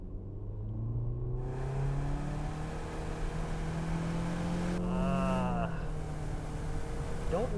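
A 2018 Toyota C-HR four-cylinder accelerates hard in sport mode, heard from inside the cabin as a steady, fairly loud engine drone whose pitch climbs as it pulls.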